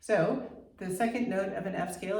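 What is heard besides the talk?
No everyday noise stands out behind the speech.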